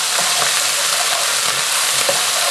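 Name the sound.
stirring aromatics in a hot frying pan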